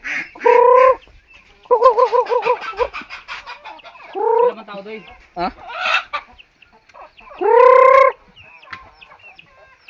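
Chickens cluck and squawk in loud bursts in a Palawan, Philippines village, with a rooster-like call near the end, while someone speaks briefly between the calls.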